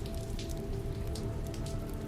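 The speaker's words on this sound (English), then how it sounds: "rain started to fall at what looked like Don could control by lifting his fingers" Steady rain falls on a surface in a close, even wash of patter with scattered louder drops, unbroken for the whole stretch and with no voices.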